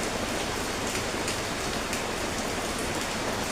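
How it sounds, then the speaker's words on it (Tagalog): Heavy, steady rain pours down without letup, a dense continuous hiss of drops hitting surfaces, loud and close throughout with no talk. "Grabing ulan."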